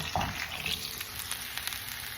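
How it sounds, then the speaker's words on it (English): A soft, steady crackling sizzle of food frying in a pan, continuous and close, with no talking. "So it's at a little sizzle right now."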